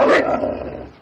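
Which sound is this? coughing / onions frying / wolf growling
wolf growling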